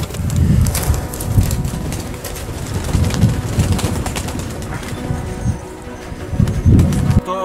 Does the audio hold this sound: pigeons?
yes